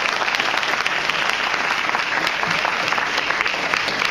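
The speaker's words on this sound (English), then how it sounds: "Can we give them a round of applause for their sacrifice," Sustained, dense applause fills a school gymnasium event honoring parents and family members of football players, steady clapping from a large crowd with no pauses.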